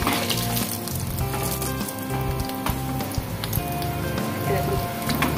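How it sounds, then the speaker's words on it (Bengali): Beaten egg fries in a hot pan, a continuous dense crackling sizzle with popping, steady and close throughout. "দুপাশে মোটামুটি উল্টিয়ে পাল্টিয়ে করে নিয়েছি, আর বেশি ভাজবো না, শক্ত হয়ে যাবে।"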